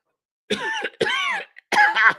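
Three harsh, throaty coughing bursts from a person with a cracked rib, close to the microphone, each a short rough exhalation, with brief pauses between them.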